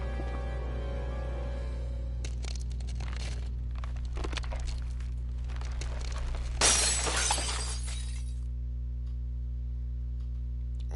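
A cup shattering in the Tales of Arise video game, a sharp glassy crash with scattering fragments partway through, heard over a steady low in-game hum with faint ticking beforehand.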